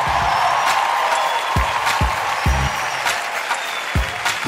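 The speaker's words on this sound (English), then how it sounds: "Give him a round of applause, y'all." An audience applauds a comedian at a stand-up show, a loud, continuous wall of clapping with scattered cheers, heard on its own without talk.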